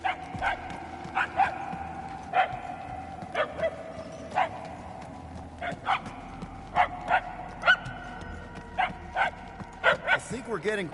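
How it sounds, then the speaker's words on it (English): A dog in the Marvel's Guardians of the Galaxy video game barks again and again in a steady, fairly close series of sharp barks throughout. They are mixed with in-game character talk. "The barks are getting louder, at least."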